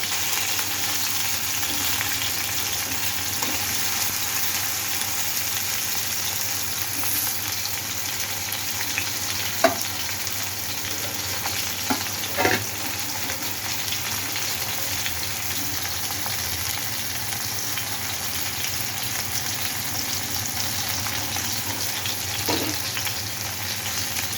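Pieces of Catla fish fry in a pan of masala, giving a steady, continuous sizzle with occasional soft pops and stirring clicks. No voices are heard over it.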